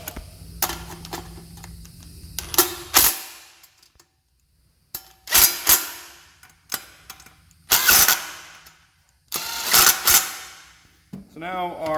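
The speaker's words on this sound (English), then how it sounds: "we can actually give them a little tighten up" Tool work tightening cold air intake parts on a 2001 NB Mazda Miata: several short bursts of a ratcheting or whirring tool, separated by quiet pauses, close and clear.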